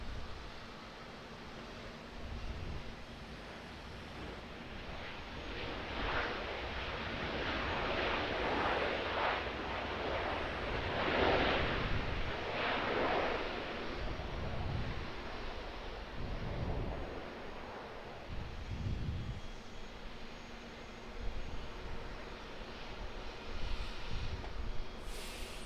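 An Airbus A320 airliner lands at Auckland Airport, a steady broadband roar swelling and fading with rumbling low swells, distant and windy, with no talk over it.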